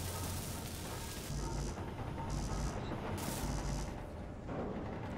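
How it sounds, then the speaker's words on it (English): Dense gunfire from a pulse weapon in the video game Underground Alone, a busy, continuous barrage of booming shots with repeated heavy bursts over five seconds, loud and close. "Hear all the gunfire? That's from the pulse."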